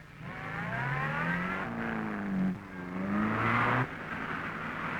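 A Porsche rally car on the 1955 Monte-Carlo Rally accelerates hard, its engine whining steadily higher in pitch through the gears, with a brief drop at each of two shifts before it climbs again, loud and close.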